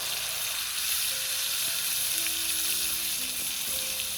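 Turmeric hitting hot oil in a frying pan along with onion and poppy-seed paste, giving a steady, close hiss of sizzling that runs unbroken, with a few faint clinks of a spoon stirring and no talk.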